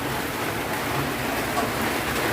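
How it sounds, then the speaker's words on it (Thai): Heavy rain pouring down in a steady, dense hiss with no breaks, loud and close, with no voices. "เดี๋ยวนี่ฝนกำลังตกอยู่เลยทุกคน"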